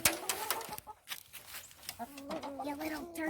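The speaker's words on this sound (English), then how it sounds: "They're chickens." Hens cluck and cackle in short bursts close by, with brief rustling and a few quieter gaps between the calls.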